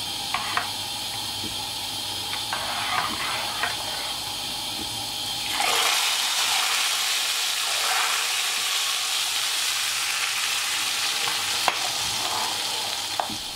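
Hot olive oil with mint is poured into a vegetable yogurt soup, giving a sudden loud hiss and sizzle that starts partway through and continues steadily, with faint clinks.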